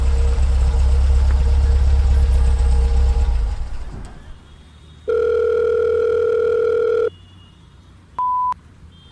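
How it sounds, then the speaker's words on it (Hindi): A phone call placed as a sound effect: a steady electronic ringback tone plays alone for about two seconds after a fading engine rumble, followed by a brief second beep. "उसने तुरंत पूजा को फोन किया।"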